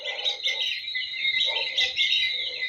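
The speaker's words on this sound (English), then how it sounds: "Rooster crowing, birds chirping along" Birds chirp at dawn, around five in the morning, in bright, close clusters of quick tweets that come in repeated bursts with short pauses. No voices are heard, and no rooster crow stands out.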